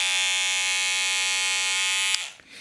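An AliExpress hair clipper with a ceramic blade runs in a steady, loud buzzing whine close by, then switches off abruptly near the end, leaving faint rattling.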